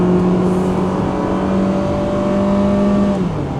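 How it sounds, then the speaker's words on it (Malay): Engine of a Mitsubishi, an Xpander or Triton of the 2021 model year, pulls hard in a 0-100 speed run with steady, rising tones, then eases near the end as the gear changes at 6000 rpm; loud inside the cabin. "Speed test 0 to 100 dia. Dia tukar gear pada 6000 rpm."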